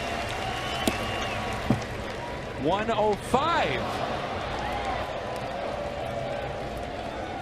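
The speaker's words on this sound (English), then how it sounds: "Crowd is oohing and eyeing" At a St. Louis Cardinals baseball game, a stadium crowd keeps up a steady roar, swelling briefly with rising oohs in the middle, while a commentator talks over it.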